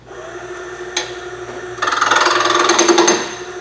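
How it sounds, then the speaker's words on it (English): A Lee Sky bowl gouge hollows a wooden bowl spinning on a lathe: a steady motor hum and a single knock, then a loud, harsh scraping cut that runs for about two seconds before easing. "hollowing."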